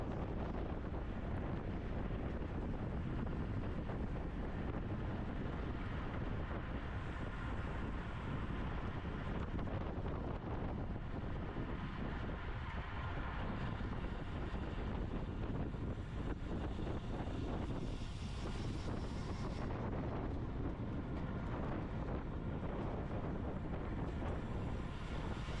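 Steady, loud wind roar buffets the microphone throughout a masters bike race as the rider pushes through a headwind section on rough, beat-up concrete, with no voices.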